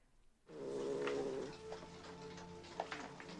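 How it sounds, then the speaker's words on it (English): A cat meows in a scene from the film Alien. A single drawn-out, wavering meow follows a moment of silence, then fades into faint background sounds. "Oh, kitty."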